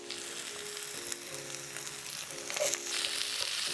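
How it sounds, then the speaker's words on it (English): Onion frying in hot oil in a pan, a close, continuous crackling sizzle that swells slightly toward the end, heard alone without speech. "I'm going to start by adding some oil in my pan, my onion"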